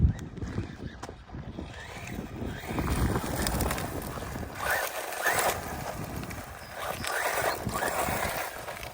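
A small Wltoys 1/12 scale RC car running on its stock 2S battery whirs and surges in repeated bursts, with gusty wind noise buffeting the microphone throughout.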